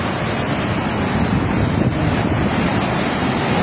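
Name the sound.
Ravi river floodwater crashing against and flowing over bridge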